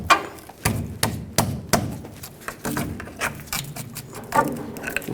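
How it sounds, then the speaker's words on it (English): Sharp metallic knocks and thuds come from working a stuck, rusted front brake caliper loose on a Ford F-350 truck, irregular close impacts spaced about half a second to a second apart. "You may need a pry bar at this point to pry this off if it's stuck."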